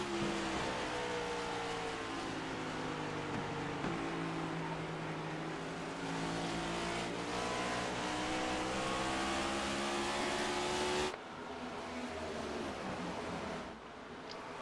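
Race cars with five-speed gearboxes lap New Hampshire Motor Speedway in a racing league, a dense continuous engine drone whose pitch rises and drops as gears shift, with a brief dip partway through.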